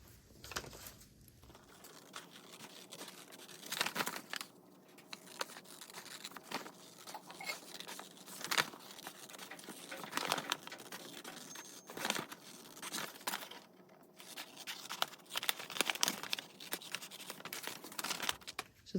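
Paper being cut out and folded for a craft project, with steady crinkling, rustling and snipping that rises and falls throughout, fairly close and alone without talk.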